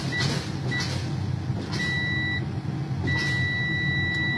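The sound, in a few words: truck low air pressure warning alarm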